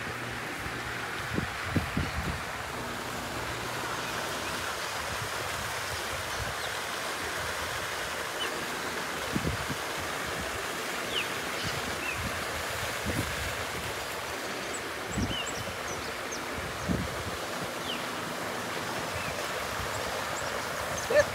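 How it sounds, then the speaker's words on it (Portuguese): Strong wind blows across the water at a fishing spot, a steady broadband rush with occasional low gusts and thumps buffeting the microphone throughout. "E o vento continua."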